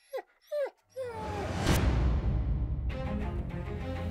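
A dog gives two short, high whimpering yips, then a sudden loud crash and clatter follows and settles into a rattling noise on a Christmas-themed domestic scene.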